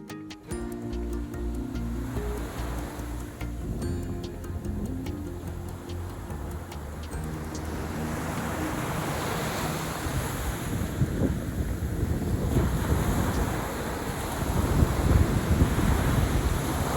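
Steady wind rush over the microphone with a broad roar of sea surf building and breaking on a beach in Hiratsuka, Japan, no voices, continuous throughout.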